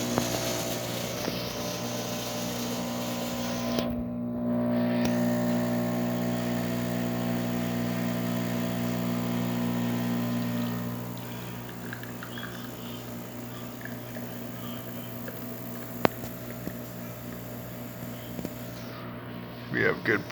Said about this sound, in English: So let's go ahead and pull a shot.